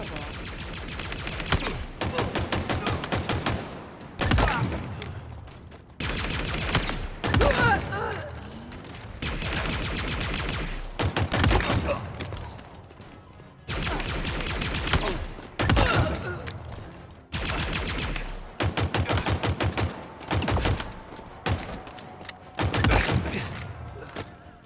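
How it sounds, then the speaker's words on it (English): Rapid-fire Plasma Pistol shots from Halo Infinite, heard as a string of quick energy-weapon bursts in short volleys with brief gaps between them, loud and close throughout. "land at least 4-7 shots while pressing the trigger rapidly"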